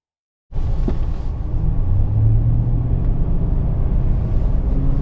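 A 2025 Chevrolet Silverado 2500 HD Alaskan Edition pickup starts off after a moment of silence, its engine settling into a steady, loud, close rumble with road whir that holds without a break.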